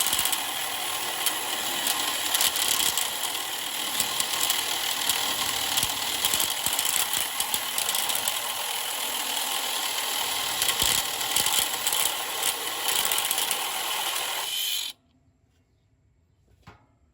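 A ratchet tightens the fastener on a dead AC condenser fan motor: continuous rapid mechanical clicking and whirring, steady and close, lasting about fifteen seconds before cutting off to near silence.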